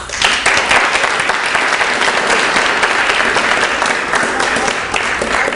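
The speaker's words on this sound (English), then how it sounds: "So an applause as well for the people who granted this." A crowd at a school digital writing showcase breaks into loud, sustained applause, many hands clapping in a thick, unbroken wash that holds steady for over five seconds.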